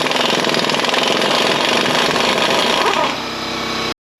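A loud impact wrench rattles rapidly and continuously removing the axle nut on a Toyota or Lexus passenger-side CV axle, then winds down briefly before cutting off abruptly.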